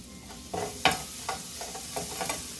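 Garlic for Mongolian beef frying in a hot pan, a steady soft sizzle with irregular stirring scrapes and clatters spread across the few seconds, no voices.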